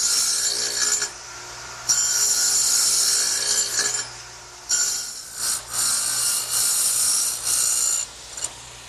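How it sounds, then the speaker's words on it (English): A radial arm saw fitted with a dado cutting blade plows wide grooves in wood, loud bursts of high rasping cutting between quieter motor whine as the blade passes repeatedly. "I've set the radial arm up with a dado cutting blade."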